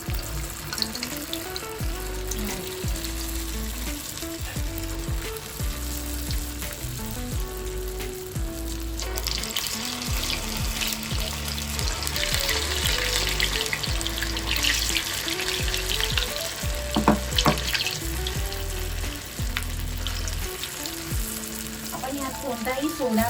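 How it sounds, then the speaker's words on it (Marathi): Small dahi vada batter drops frying in hot oil, a loud continuous sizzle and bubbling that swells in the middle, heard close up with faint kitchen clatter. "आणि मी असे छान असे छोटे छोटे वडे टाकते. आता तेल तापलंय आपलं"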